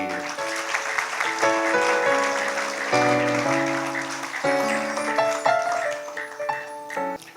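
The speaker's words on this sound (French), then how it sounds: "que je vous demande d'applaudir" At a closing ceremony, an audience applauds the Sion 2022 coordination team while sustained musical notes ring out over the clapping, which runs fairly loud throughout.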